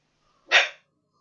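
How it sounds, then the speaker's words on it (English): A dog gives one short, sharp bark, close and fairly loud, in an otherwise quiet room behind a city-building game session. "Sorry about my dog."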